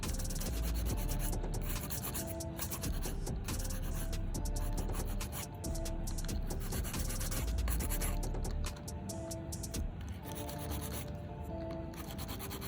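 A hand file scrapes back and forth across artificial nail tips on a nail trainer hand, a close, dry rasping in quick repeated strokes that continues steadily with no talking.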